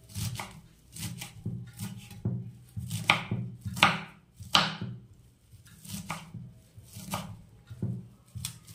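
A knife chops bathua greens on a board in quick, uneven bursts of crisp thuds, close and clear, with brief pauses between runs of strokes.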